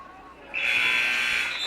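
A loud, steady electronic buzzer blares in a high school girls' basketball gym during a substitution, starting abruptly after a moment of quiet crowd ambience and holding for over a second.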